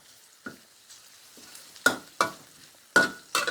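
Bean sprouts with pork belly and spring onion stir-fried in a hot pan: a quiet sizzle broken by several sharp, loud scraping tosses of the spatula, coming faster toward the end.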